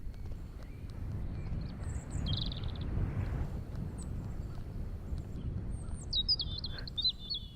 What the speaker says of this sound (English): You hear that? The birds in the distance?